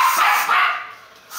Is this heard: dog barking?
yes